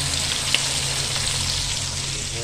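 Red snapper head frying in hot oil gives off a steady, dense crackling sizzle, close and even throughout, with a low hum underneath.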